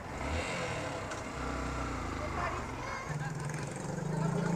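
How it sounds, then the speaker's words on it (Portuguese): An old, noisy motorcycle engine drones and revs nearby on a trip to go vote, its rough low rumble running the whole time under frequent talk. "E aquela velha moto barulhenta."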